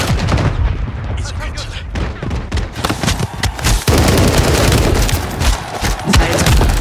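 Heavy gunfire rattles nonstop in a Call of Duty Modern Warfare 3 deathmatch, loud and close, with rapid shots, booming thuds and a sharp blast about halfway through.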